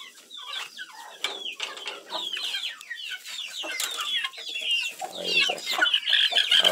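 Galinha Sertaneja Balão chicks and hens cheep and cluck in a busy overlapping chorus, with high peeping calls and short clucks close by, no voices.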